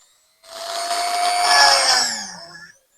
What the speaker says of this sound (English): let's check if the drilling machine is going to perforate this